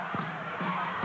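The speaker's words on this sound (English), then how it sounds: "We have quite a little crowd right in front of us" Crowd noise at a 2000 Kentucky high school basketball game between Warren East and Warren Central, with a steady murmur of spectators and a few thumps of the ball on the court.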